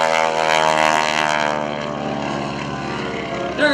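A Stearman biplane flying aerobatics at a military base airshow roars past with a loud, steady propeller drone whose pitch slowly falls as it passes.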